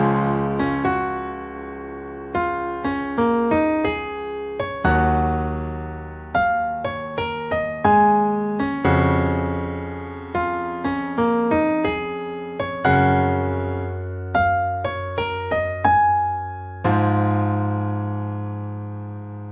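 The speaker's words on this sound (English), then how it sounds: "It's really hard to replicate on a piano with just 10 fingers because so many instruments are doing so many different things." Solo piano plays an arrangement of the Star Trek: Picard brass theme, with loud sustained chords and rising melodic runs struck in repeated phrases, close and alone with no talking.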